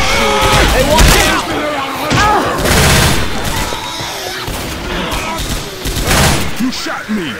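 Gunfire in Left 4 Dead 2 co-op play, rapid loud bursts of automatic shots and heavy thumps in clusters, with players talking and shouting over the shooting.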